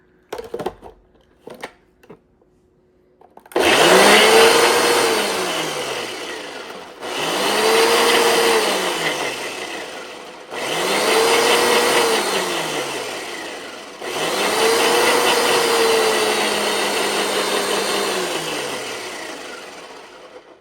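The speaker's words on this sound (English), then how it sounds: "Turn on our blender." A blender whirs loudly in four bursts, blending a dipping sauce, each starting with a rising motor pitch and running a few seconds before cutting off, preceded by brief clicks.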